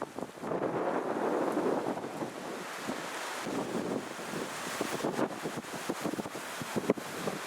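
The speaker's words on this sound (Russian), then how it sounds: "Конечно, ветер такой сильный, порывистый сегодня." Strong, gusty wind buffets the microphone along a roadside near the Belaya River in Bashkortostan, a continuous roar that swells and drops in irregular gusts, close and loud with no voices.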